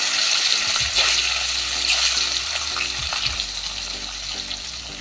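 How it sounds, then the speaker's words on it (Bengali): Hilsa fish pieces sizzling in hot mustard oil in a kadai, a steady close crackling hiss with occasional stirring scrapes and small pops, no voices. "এবার দেব সর্ষের তেল। তেল গরম হয়ে গেছে ভালো মতন। এবার মাছগুলো ভেজে নেব, হালকা করে ভেজে নেব।"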